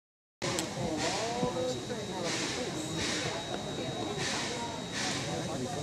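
A heritage railroad train engine rumbling steadily nearby with a constant hiss and mechanical clatter, a faint whistle-like tone running throughout.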